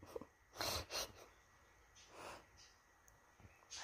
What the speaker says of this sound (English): Oh, you're sniffing.